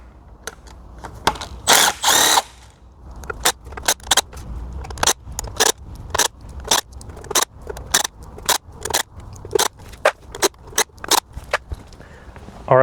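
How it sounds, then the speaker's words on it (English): A power driver spins out T30 screws from a Tesla large drive unit, with many short, loud, sharp bursts in an irregular rhythm close by, a longer whir early on. "So a total of 15 of those T30 screws. Alrighty, let's go ahead and remove all these."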